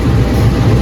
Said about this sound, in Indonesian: Itu kereta kita